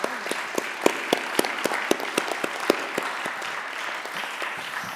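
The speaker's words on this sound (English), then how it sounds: "Give yourselves a round of applause." A community event audience gives a sustained round of applause, many hands clapping together at a steady level for several seconds with sharper individual claps standing out.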